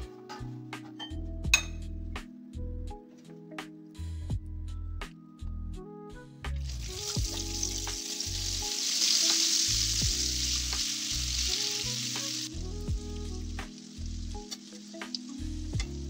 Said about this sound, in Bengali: এবার এক এক করে আমি সবগুলো ভেজে নেব।